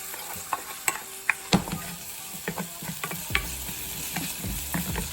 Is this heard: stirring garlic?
yes